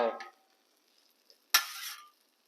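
Vegetables dropped onto a hot Blackstone griddle, two short bursts of bright sizzle and spatter with near silence between them, the second burst louder and hissing briefly before fading.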